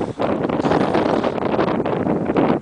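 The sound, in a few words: strong wind blowing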